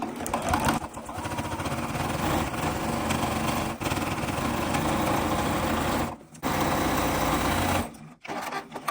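A sewing machine stitches a thick quilted hot pad at a longer stitch length, running in a fast steady whir with brief pauses near the end.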